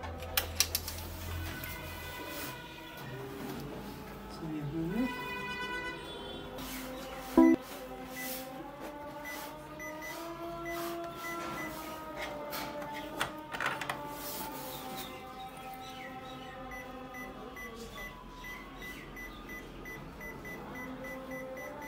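A Konica Minolta C250i/C300i/C360i colour copier printer powering up, giving a run of electronic beeps and rising and falling tones over a steady mechanical hum and whir, loud and close, with no talking.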